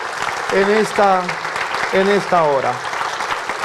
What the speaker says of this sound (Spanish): dale un aplauso al Señor por esa proclama que hacemos